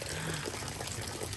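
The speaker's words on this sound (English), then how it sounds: "The gutter is leaking." Rainwater spills and trickles from a leaking house gutter during a severe thunderstorm with heavy downpours, a steady close splashing wash that fills the whole short stretch with no talk.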